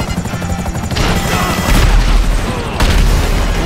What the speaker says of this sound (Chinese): 哇，飞机爆了